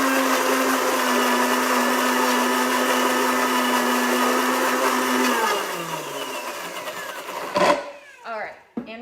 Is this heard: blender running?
yes